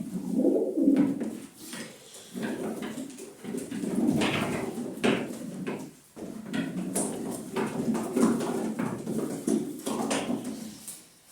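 A breeder's mixed pigeons coo repeatedly close by, low throaty rolling calls overlapping in bursts with brief pauses between.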